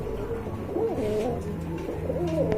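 Pigeons coo in soft, repeated rolling calls, close by, with overlapping birds and a steady low background hum.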